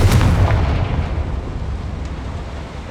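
The Confringo spell in Hogwarts Legacy goes off as a loud, near explosive boom at the start, then its rumble fades over the next few seconds.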